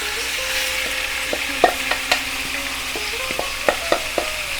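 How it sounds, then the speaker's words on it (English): Steady sizzling of chicken frying in a pan with garlic and ginger, with intermittent clinks and scrapes of a utensil stirring; no voices. "let's fry up this chicken"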